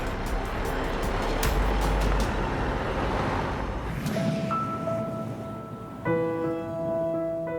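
A car pulls away from a roadside stop at a border checkpoint. Its engine rumble is loud and close at first, then fades, and a steady tonal hum takes over.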